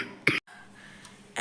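A person with a cold coughs twice: one short, sharp cough close up, a quiet pause, then a second cough at the end.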